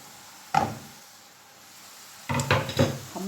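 Chopped onion is tipped into a frying pan of cooking mushrooms, giving one sharp clatter followed a moment later by a louder burst of knocking and scraping against the pan.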